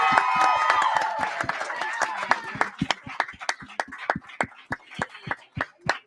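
An audience at a tech summit claps in a round of applause, starting as a dense wash of many hands that thins into scattered individual claps, with a brief word spoken near the start.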